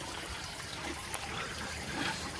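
Water trickling and running steadily from an Escort Mk3 cabriolet's cooling system as it is flushed out with hoses and thermostat housing removed, a continuous close splashing wash with no talk.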